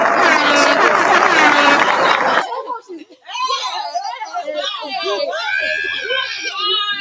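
Crowd cheers and claps loudly for a little over two seconds, screaming voices mixed into the applause. It then cuts off sharply to people talking and laughing nearby.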